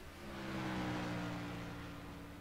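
Truck engines in a racing video game at Chicagoland, a steady droning hum with layered tonal whine that swells slightly and then eases, heard alone without talk.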